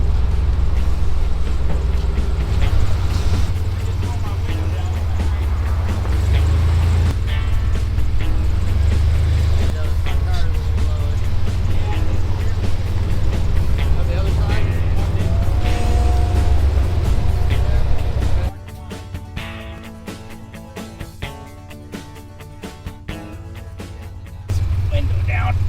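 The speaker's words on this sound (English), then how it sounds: "Gotta do something about that muffler. That thing's way too loud." An old, cheap auction-bought truck runs with a very loud muffler, giving a deep, continuous low rumble that drops and shifts partway through, with voices talking over it.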